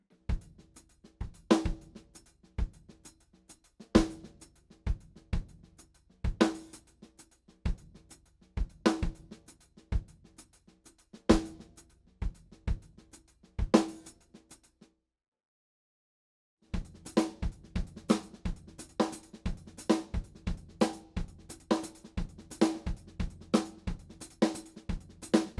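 A full drum groove on kick, snare and hi-hat is played slowly and clearly, with crisp, close hits in a lopsided pattern. It stops for a brief silent gap, then resumes at a slightly busier pace with no voices.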